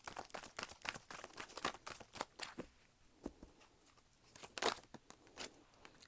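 A deck of tarot cards being shuffled by hand, quiet and close, a quick run of papery riffles and slaps followed by a softer pause and then a few more crisp snaps.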